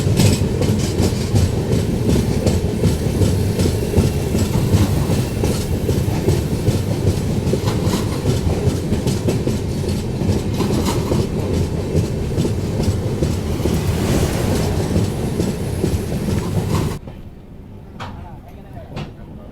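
A Farakka Express passenger train on the Malda–Delhi route rolls steadily along the tracks, its loud, continuous rumble and rhythmic rattle holding until the noise drops off sharply near the end.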